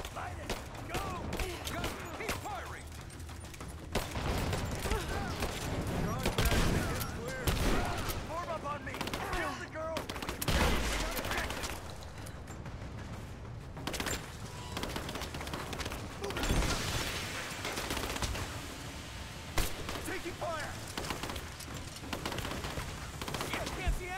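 Gunfire in a Rise of the Tomb Raider battle: bursts of automatic and single shots mixed with explosions, loud and sustained, with voices shouting over the combat throughout.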